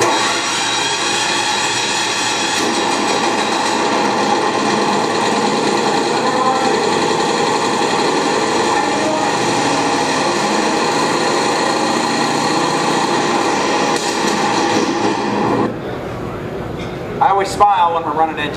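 A loud engine running with no muffler roars steadily with a harsh, buzzing drone, then cuts off abruptly near the end, leaving a few clicks and clanks.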